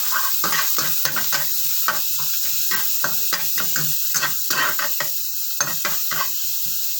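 Onions sizzling in a hot pan for Filipino garlic fried rice, with a steady frying hiss broken by repeated scraping stirs of a utensil against the pan, close and fairly loud, no talking.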